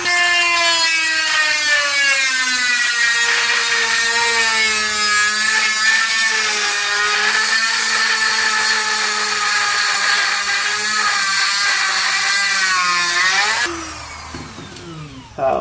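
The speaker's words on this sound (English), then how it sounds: "we're gonna do the Dremel tool with the 1/8 bit on it" Dremel rotary tool fitted with a 1/8 bit grinding out tile grout, a loud, close, high-pitched whine whose pitch wavers as it bites, then spins down and stops near the end.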